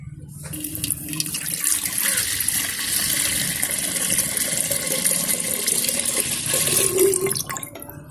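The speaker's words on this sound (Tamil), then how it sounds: "பானை நல்லா சூடாகிட்டு பால் ஊற்றிப்போம்" A continuous stream of milk pours and splashes into a heated clay pot on a stove for several seconds, close and fairly loud with a steady rushing texture.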